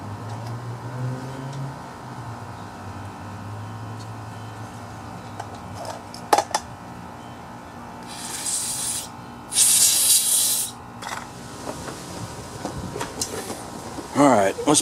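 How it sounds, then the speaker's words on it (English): Carb cleaner sprays onto a lawn mower carburetor in short hissing bursts, one strong close blast standing out loudly against a low background rumble and scattered clatter. "I'm gonna just hose this down a little bit with carb cleaner"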